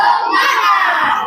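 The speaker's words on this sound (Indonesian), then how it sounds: "Tepuk 1, tepuk 2, tepuk 3, tepuk 4, tepuk semangat." Schoolchildren in an Islamic education class respond together in a loud, continuous crowd sound of voices and clapping during an icebreaker chant, dense and sustained throughout.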